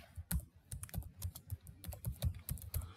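Someone types code on a computer keyboard, producing a steady run of soft, close key taps with an irregular rhythm throughout.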